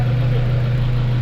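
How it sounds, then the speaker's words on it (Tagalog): A Mazda 3 engine that had been making a boat-like noise runs at idle, a close, steady low hum with a strong droning tone and no talk. "umandar na talaga yung Mazda natin"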